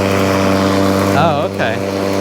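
A Powersmart 80V cordless electric lawn mower runs with its self-propelled drive engaged, giving a steady close motor hum with strong harmonic tones while a person talks over it.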